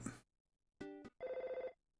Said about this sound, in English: I think we get a phone call once we get back to Twoson